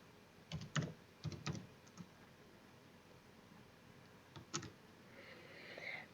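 Sparse keystrokes on a computer keyboard while entering HTML code: small clusters of close, quiet clicks separated by pauses, over faint background hiss.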